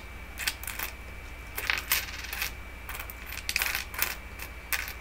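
American quarters and a silver dime being handled, with bright metallic clinks and jingles coming in quick clustered bursts, close and fairly soft, with no talking.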